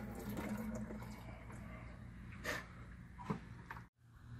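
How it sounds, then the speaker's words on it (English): Water drains steadily from the pre-filter housing of a water filter, a continuous broadband rush with a couple of brief louder splashes before a sudden cutoff near the end. "Go ahead and press that button and you'll see a lot more water starting to flow."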